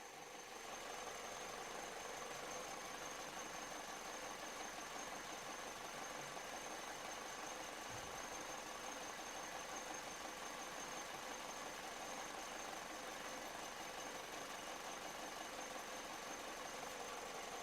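Petrol car engine idling with jerking, sampled in a test of Liqui Moly injector cleaner; a faint, steady mechanical hum with a thin whine runs throughout, with no clearly separate surges and no voices.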